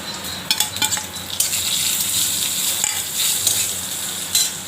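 Neem leaves frying in a pan for an eggplant dish, a bright continuous sizzle that flares up as they go in, with quick scraping stirs and clinks of the utensil close by.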